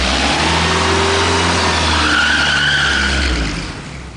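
A Volkswagen Golf Mk1 GTI drives off, its mid-pitched engine revving up steadily and holding loud and close for several seconds before fading slightly at the end, with a faint tyre squeal.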